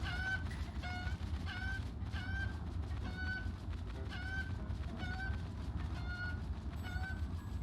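Cucco chickens from Zelda: Breath of the Wild cluck in short repeated bursts over a steady, dense game background hum, regular and moderately loud throughout.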